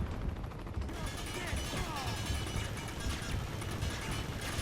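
M4 rifles fire in the Uncharted 2 video game's Locomotion chapter, with dense, rapid gunfire clattering continuously at moderate distance beneath a busy, noisy game mix.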